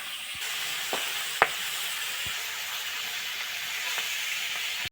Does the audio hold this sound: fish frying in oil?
yes